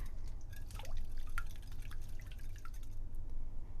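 Eggs are whisked into milk, giving close, soft wet clicks and drips in an irregular steady patter over a low background rumble.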